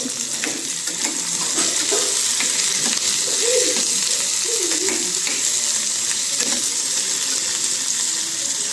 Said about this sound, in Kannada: ಬೆಳ್ಳುಳ್ಳಿ, ಈರುಳ್ಳಿ, ಹಸಿಮೆಣಸಿನ್ಕಾಯಿ, ಕೆಂಪು ಮೆಣಸಿನ್ಕಾಯಿ ಇವೆಲ್ಲ ಹಾಕ್ಕೊಂಡು ಫ್ರೈ ಮಾಡ್ಕೊಬೇಕು